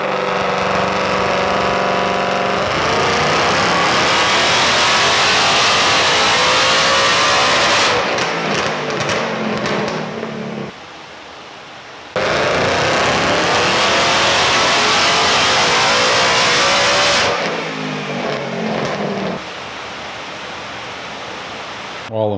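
A Ford Mustang 5.0 drag car on a fresh ethanol tune runs and revs loudly in two long bursts, its engine roar rising and falling with brief quieter gaps between pulls.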